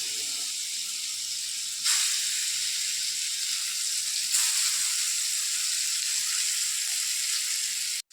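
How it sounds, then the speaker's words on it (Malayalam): Chicken pieces for chicken fry sizzle steadily in hot oil, a dense continuous frying hiss with two brief louder bursts as more pieces go in, heard up close with no talking. "നമ്മുടെ ചിക്കൻ ഫ്രൈ ഇട്ട് കൊടുക്കുകയാണ്."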